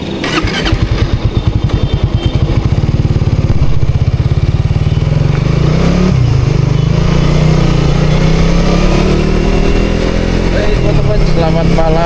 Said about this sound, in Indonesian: pembukaan naik motor